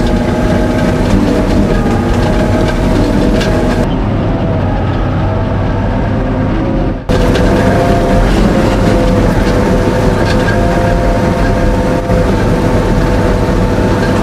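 Stridsvagn m/37 light tank driving in second gear, a loud continuous heavy engine roar with rattling tracks, very close and steady with a brief shift in tone midway, no speech.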